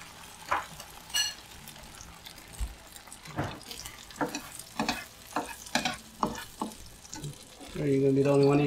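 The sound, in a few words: frying eggplant omelette (tortang talong) in a pan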